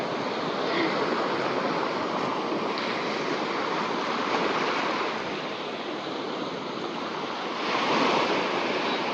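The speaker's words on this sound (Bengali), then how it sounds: "ঢেউয়ের যে আওয়াজ" Steady surf rolls onto a beach in Oman after dark, a constant rushing wash of waves that swells slightly near the end, with wind noise and no speech.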